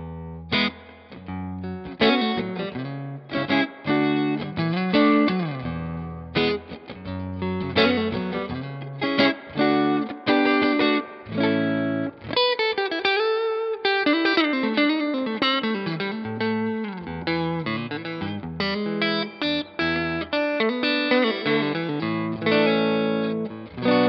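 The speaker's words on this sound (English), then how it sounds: "straight into the amp with a tiny bit of reverb sounds like this." Clean electric guitar through a 1968 Fender Custom Pro Reverb tube amp playing a lively melodic passage with chords and single notes, warm amp tone and a light touch of reverb, no voices.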